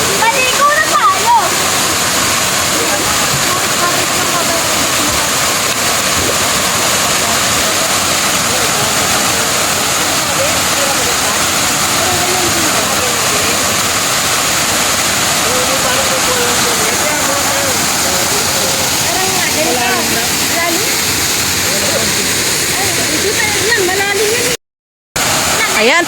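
Busay Falls waterfall pours in a steady, loud, broadband roar that fills the whole scene without letup, with people's voices faintly mixed in while they swim at the falls.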